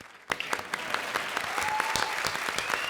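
A comedy show's studio audience breaks into clapping after a short silence, with sharp individual claps soon merging into steady applause over light background music.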